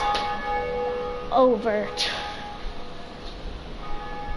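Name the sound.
bell ringing in the video game Dark Souls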